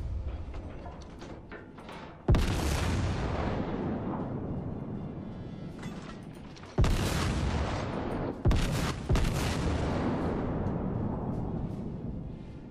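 Heavy naval guns fire in World of Warships around the battleship Tirpitz: several loud, deep booms, each with a sharp onset that decays into a long rumbling roll, with the blasts spaced several seconds apart and no voices.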